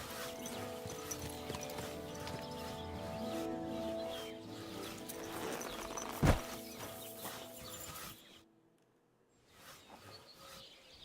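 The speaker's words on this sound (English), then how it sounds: "Watch out with that horse!" Horse hooves clip-clop in Kingdom Come: Deliverance 2, set under game music and ambience with one sharp thump midway, before a near-silent drop at the end.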